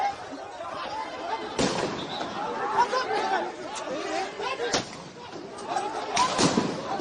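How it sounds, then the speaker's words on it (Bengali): Repeated gunshots ring out as police enter a press club during an opposition protest rally, with about three sharp bangs cutting through steady crowd chatter and shouting. "মুহুর্মুহু গুলির শব্দ শুনতে পাচ্ছেন আপনারা"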